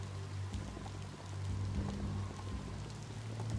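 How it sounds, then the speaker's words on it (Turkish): Steady rain in the video game Biomutant, a soft broad wash of falling drops with a low hum beneath, constant and even throughout with no talk. "Yağmur başladı."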